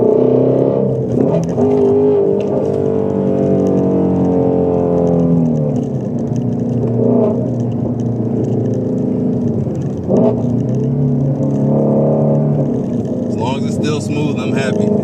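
A Ford Mustang GT350 drones steadily while driving, its engine pitch climbing and then dipping at a few gear changes, loud and close from inside the car.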